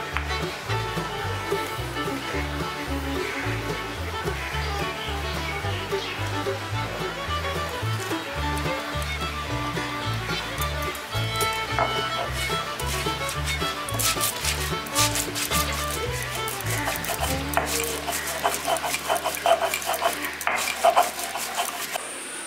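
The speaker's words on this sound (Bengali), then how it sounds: "কালো সর্ষে, গোটা জিরে, সাদা সর্ষে, পোস্ত আর কাঁচা লঙ্কা ঝাল হিসাবে সবগুলো একসঙ্গে আমি বেটে নেবো সিলেতে।" Black and white mustard seeds, whole cumin, poppy seeds and green chillies being ground together on a stone sil, with steady rhythmic rubbing and scraping strokes, close and fairly loud, continuing throughout.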